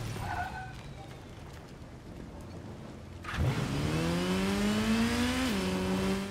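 Motorcycle engine in Gotham Knights starting up and revving, a sudden rising whine that settles into a steady sustained drone with a brief pitch dip near the end, loud and close after a quieter ambient stretch.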